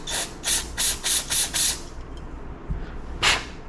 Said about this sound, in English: And then we'll spray some carburetor cleaner through the jet.